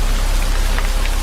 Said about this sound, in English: The rain poured harder between us.